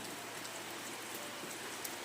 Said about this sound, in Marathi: पावसाला सुरुवात झालेली आहे